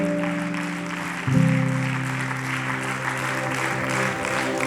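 A church congregation applauds steadily over a sustained keyboard chord, with the clapping swelling louder partway through and continuing as a dense wash.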